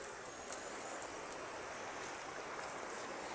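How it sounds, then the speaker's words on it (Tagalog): A flooded stream rushes in a steady, dense wash of water noise, close and continuous with no pauses, and no voices over it. "Mao jud na ang sapa guys. Ning baha jud ni siya guys."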